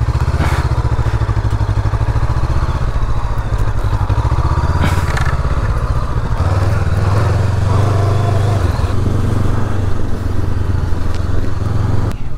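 A Honda NX500 motorcycle pulls away and rides on, its engine a loud, steady close drone that changes pitch partway through as it gets moving.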